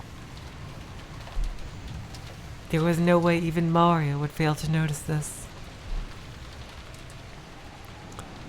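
In the Umineko visual novel, steady rain hisses softly under someone speaking for a few seconds, with a couple of faint low thumps.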